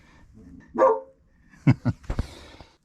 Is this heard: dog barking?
yes